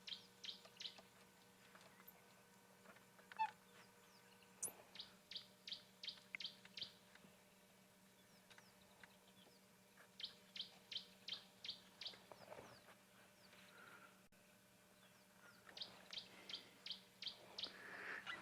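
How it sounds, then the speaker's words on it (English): A tawny-flanked prinia calls at Ngala Private Game Reserve during an afternoon safari. It gives several bursts of rapid, evenly spaced chirps, each series lasting a couple of seconds with pauses between. The calls are fairly faint and distant, over quiet background. "That's the tawny flank prinier you can hear."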